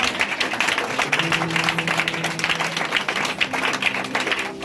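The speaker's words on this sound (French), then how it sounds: "Est-ce que tu peux lui donner le fond d'acclamation?" Congregation applause during a church sermon: a steady wash of many hands clapping, dense and continuous, with a faint sustained tone underneath and no talking.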